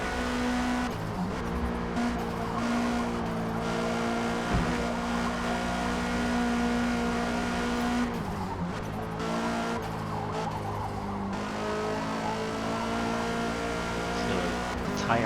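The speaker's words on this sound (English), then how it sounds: "Tyres squealing around every corner now." Worn race car tyres squeal in Forza Motorsport under a steady engine drone, with long sustained squeals, sudden pitch shifts and rises and falls in revs through the corners, continuous throughout.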